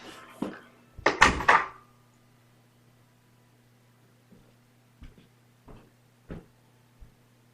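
A front door is shut with a few sharp knocks and thuds, the loudest cluster early on, followed by quieter clicks and taps of the latch in an otherwise quiet house with a low hum.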